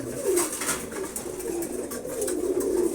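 Pigeons, among them Muksi racer youngsters, coo steadily as they feed in the morning, a continuous layered throaty cooing from several birds close by, with light pecking and rustling underneath.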